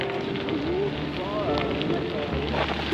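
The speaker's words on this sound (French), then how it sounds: "là il pleut de plus en plus" Rain coming down during a bike ride along the Canal du Midi, a steady hiss of falling drops mixed with wind buffeting the microphone, continuous and fairly close throughout.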